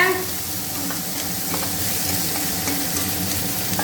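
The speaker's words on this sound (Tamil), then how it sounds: "கருவேப்பிலை போடுறேன் கருவேப்பிலை நிறைய சேர்க்கலாங்க" Curry leaves sizzling in hot oil for cauliflower poriyal, a close, steady crackling hiss with faint stirring, continuous throughout without speech.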